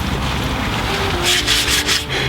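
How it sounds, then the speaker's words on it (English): Sandpaper works by hand along a 100 lb laminate English warbow, a close, loud, rough rubbing that turns into several quick back-and-forth strokes toward the end, with no talking. "when you're sanding, you are removing wood"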